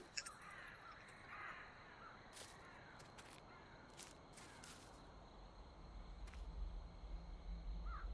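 Crows caw in the forest of the horror video game The Cursed Forest, several sharp, separate calls spread across a quiet rustling ambience.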